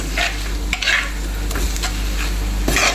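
A spoon stirs a beetroot pickle mixture with chilli powder, green chillies, mustard seeds, fenugreek, curry leaves, ginger and garlic in a pan, making several brisk scraping strokes over a continuous sizzle.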